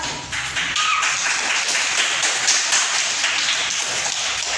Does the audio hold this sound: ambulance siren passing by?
no